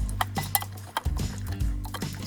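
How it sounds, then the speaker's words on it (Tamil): Green peas and paneer being stirred in an Instant Pot, several close clinks and scrapes of a spoon against the metal pot in an uneven rhythm. "எல்லாத்தையும் நல்லா மிக்ஸ் பண்ணி விட்டுக்கலாம்."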